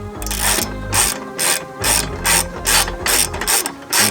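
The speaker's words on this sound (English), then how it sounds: "remove the 13mm bolt from the top of the strut brace" A ratchet wrench loosens the 13mm fastener on top of the strut brace of a MK1 Audi TT, giving close, loud bursts of rapid clicking in a steady back-and-forth rhythm with no talking.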